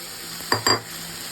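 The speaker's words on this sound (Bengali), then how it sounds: "দিয়ে দেবো এর মধ্যে ভেজে রাখা বেগুনগুলো" Fried eggplant pieces added to a pan of spices, green chilli and Kashmiri chilli, then stirred, heard as two quick close scraping clatters over a quiet background.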